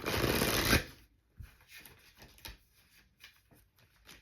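Oracle cards being shuffled, first a loud, dense riffling burst, then softer scattered flicks and slides of card against card, close up with no talk.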